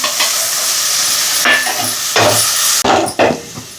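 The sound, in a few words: stirring tempering frying in pan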